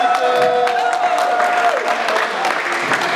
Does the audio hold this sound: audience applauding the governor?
yes